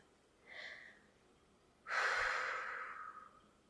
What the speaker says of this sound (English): Just take a deep breath.